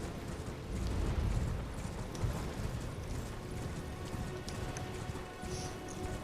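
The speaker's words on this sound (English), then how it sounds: "Back on the horse." Horse hooves gallop in the video game Elden Ring, a rapid, rhythmic clatter of hoofbeats with mechanical clicking, moderately loud and continuous without talking.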